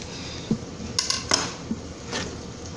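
A knife cutting the bottom off a vegetable for smothered chicken and mashed potatoes in a skillet: a few sharp clacks of blade on board, close and fairly quiet, with no talk.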